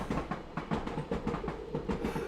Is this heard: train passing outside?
yes